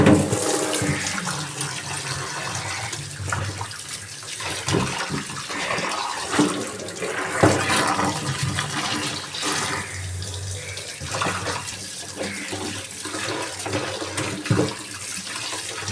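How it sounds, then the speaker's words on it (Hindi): Clean running water pours steadily from a tap as bitter gourds are rinsed and rubbed by hand, a continuous close splashing flow with no talk. "और अब करेला हम धोएंगे साफ पानी से।"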